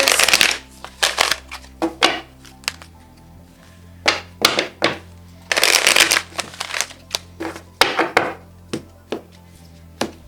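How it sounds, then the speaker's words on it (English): Oracle cards shuffled and pulled from a deck, giving loud, close riffles and slaps in uneven bursts over a low steady hum. "I'm going to pull a few little oracle cards just to see if we can get any attributes for this person"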